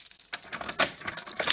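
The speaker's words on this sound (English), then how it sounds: "All right, keys" A set of keys jangles and clinks in a hand as a smoke alarm and strobe collection is shown, with several metallic rattling bursts close to the mic and no talk.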